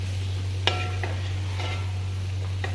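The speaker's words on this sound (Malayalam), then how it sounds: "നന്നായിട്ടൊന്ന് ഇളക്കി കൊടുക്കാം." Sautéed papaya chunks coated with salt and chili powder are stirred in a pan, a few scraping and clinking strokes over a soft sizzle and a steady low hum, with no voices.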